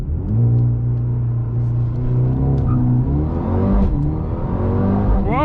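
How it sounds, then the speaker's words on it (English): A Mercedes-AMG A35 revs hard from a launch-control race start. The loud, steady engine drone rises and falls in pitch, and a quick upshift is heard near the end. The sound is close, with no talk. "I think we can go and try the race start"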